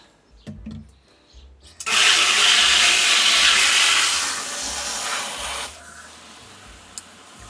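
A garden hose sprays water onto a garden bed, a loud steady hiss that starts abruptly after a few faint knocks and then eases slightly before stopping.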